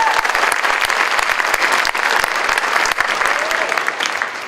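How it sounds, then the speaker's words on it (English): A dense round of applause at a county promenade event, many hands clapping fast and steadily, close and loud from start to finish. "Round of applause for her."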